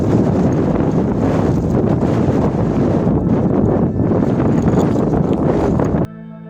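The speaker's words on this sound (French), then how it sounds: "Par contre, il y a du vent." Strong gusty wind on a mountain descent along the GR20 trail in Corsica roars and buffets the microphone continuously, then cuts away abruptly just before the end.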